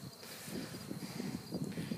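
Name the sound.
honey bees buzzing around a hive with queen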